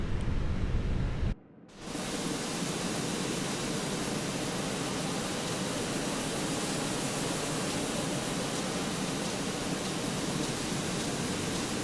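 A steady, loud broadband roar from an Airbus A320 with CFM engines in the Fenix flight simulator fills the clip as engine 2 runs up, broken only by a brief dropout near the start.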